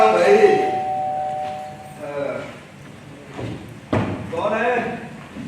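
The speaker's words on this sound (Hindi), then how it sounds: "डोरबेल बजा के ऐसे ही चले जाते हैं" A doorbell chime rings briefly at the start on a stage set, a sustained tonal ring followed by a thud and people speaking.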